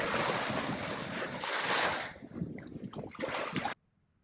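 Wind roars and ocean waves wash around a sailboat sailing solo at sea from California toward Hawaii on a sunny day with moderate waves, loud and close, with heavy wind buffeting on the microphone before it cuts off.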